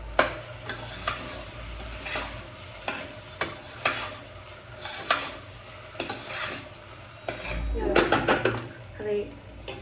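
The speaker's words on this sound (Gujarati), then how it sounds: "mix it well" A spoon scrapes and knocks around inside a pressure cooker while food is mixed in a home kitchen, giving repeated sharp clinks and scraping strokes, with faint sizzling underneath and brief talk now and then.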